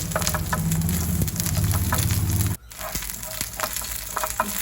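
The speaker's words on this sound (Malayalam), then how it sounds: "ഈ പച്ചമുളക് ഒന്ന് വഴറ്റിയെടുക്കണം കരിഞ്ഞു പോകരുത്" Chopped green chillies sauté in a pan with a loud, dense frying crackle that cuts out abruptly partway through, then resumes more quietly with light sizzling and scattered stirring clicks, with no voices.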